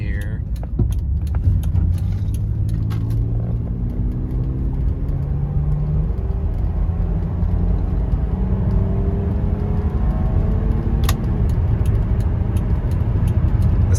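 A 2000 Lexus ES300 with an automatic transmission pulls onto a highway at under half throttle, its engine a steady low drone with rising harmonics, mixed with road rumble and wind noise throughout.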